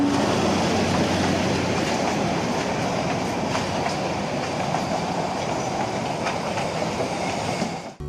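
Darjeeling toy train running at Batasia Loop, a loud steady rumble of rail wagons with rhythmic clickety-clack and faint wheel squeal throughout, close by and with no voices.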